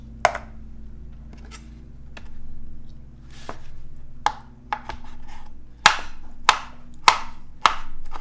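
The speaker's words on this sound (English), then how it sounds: "I'm going to chop them up, and then we'll put them in with our spinach." Knife chopping vegetables on a cutting board for a low-fat appetizer with spinach, a series of sharp, close knocks that start sparse and irregular, then land as several louder, evenly spaced strikes.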